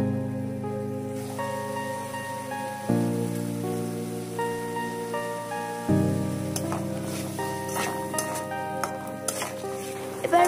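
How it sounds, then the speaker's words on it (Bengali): A spice mixture fries in a pan and is stirred, giving a steady sizzle with scraping stir sounds against steady background music. "এবার ভাজা হয়ে গেলে এর মধ্যে মেশানো মশলাটা দিয়ে দেব, দিয়ে সব আবার ভালো মতো কষিয়ে নেব।"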